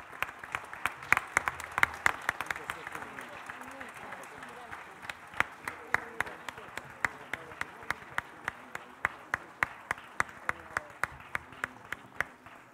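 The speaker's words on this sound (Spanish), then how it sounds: "renovamos este aplauso para los" Applause for Malvinas war veterans at a recognition ceremony, a crowd clapping steadily that thins into slower, scattered individual claps, with voices in the background.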